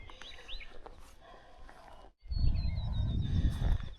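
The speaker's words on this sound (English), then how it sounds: "Hear the birds singing?" Birds sing along a wooded stretch of the Appalachian Trail, thin high whistled phrases repeating over a steady outdoor rumble, moderately close and mixed with ambient noise.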